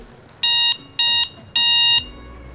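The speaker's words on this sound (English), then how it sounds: "Finally, you've got a horn, which is this green button right below" Electric scooter horn from a green button, three loud electronic beeps, the last one longer, with a faint voice underneath.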